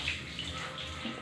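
Shower water runs steadily while a dog named Sniper is bathed, a close, continuous hiss of spray with no break.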